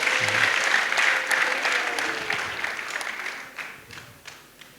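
A church congregation at a healing prayer service breaks into loud, dense applause that gradually thins and fades, with a few sharp claps near the end and faint voices mixed in.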